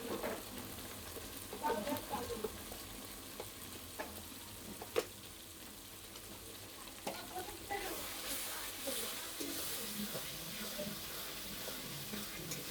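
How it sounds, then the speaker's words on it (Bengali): Mixed vegetables and tender young radish greens fry in a pan with salt and turmeric, making a soft, steady sizzle with occasional stirring scrapes, fairly faint throughout. "লবণ হলুদ দিয়ে আমি কষাই।"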